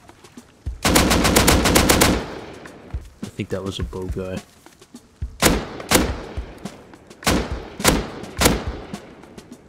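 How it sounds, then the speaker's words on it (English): Bursts of rapid automatic rifle fire in a video game, including AK shots, crack loudly and close, first as a long sustained burst, then as short separate volleys, with someone talking between them. "Four AK shots on spawn?"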